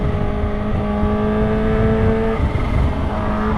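A tuned Kawasaki Ninja H2 motorcycle with a stage 2 setup runs close by, its engine holding a steady, loud drone with a whining harmonic edge throughout.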